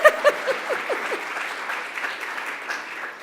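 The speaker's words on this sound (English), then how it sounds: "You can clap. It's okay." Light, brief clapping from an audience at an Ontario public-service event, starting with a few sharp near claps and thinning into a soft scattered patter that fades quickly.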